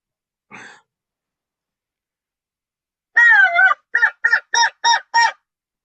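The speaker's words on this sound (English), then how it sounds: "and then we got a crow call." One brief faint note, a pause, then a loud raspy caw followed by five quick cawing blasts from a hunting crow call device, close by with no talking.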